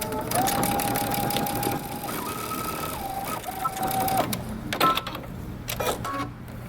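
Sewing machine stitching a seam with backstitching, its motor whirring at a steady pitch that stops, briefly shifts speed, then resumes, with mechanical clatter and a few clicks as it finishes, close and fairly loud.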